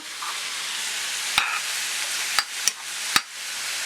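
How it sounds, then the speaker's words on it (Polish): A steady soft hiss of pumpkin soup cooking in a pot, broken by a few sharp clinks of a utensil against the rim. "Tutaj już e, zupa się gotuje"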